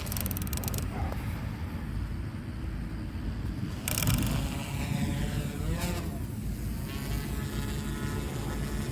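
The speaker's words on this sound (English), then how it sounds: "Okay, let's do a takeoff." A V-Coptr Falcon drone takes off, its broadband motor and rotor whir running loud and steady throughout, with a rising rush near the middle as it lifts away.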